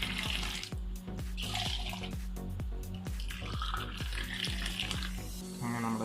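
Coconut-shell tea is poured back and forth between cups to froth it, making a steady close splashing stream with rhythmic clinks and faint voices in the background.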